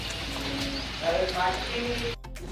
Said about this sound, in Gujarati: ફૂલ ધમાકેદાર વરસાદ અમારા ગામમાં વરસાદની ઓફર આવ્યો